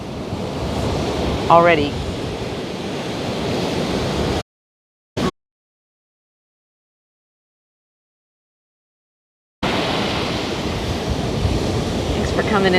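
Ocean surf rolling onto a beach at high tide during nesting season, a steady loud wash of breaking waves with wind buffeting the microphone, cut off by a long silent gap before the surf noise returns, with brief talk over it.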